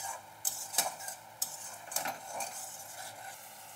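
Potato pieces stirred in a pan with spices and a splash of water, quiet scraping and clinks of a utensil against the pan over a faint sizzle, with no talking.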